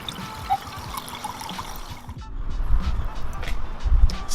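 Sparkling water poured into a glass for a toast, a steady close trickle and fizz with a brief pause midway, then a heavier, louder stream.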